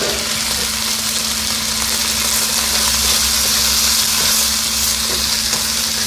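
Onions and red pepper sizzle steadily in a hot pan over medium-low heat for a Cajun chicken sloppy joe, a continuous close frying hiss with a low steady hum beneath and no talking.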